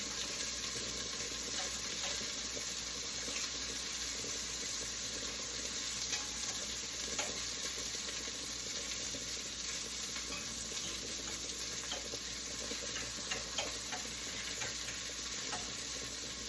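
Bacon fries in a pan with a steady, even sizzle that holds for the whole stretch, fairly quiet, with occasional small crackles and pops.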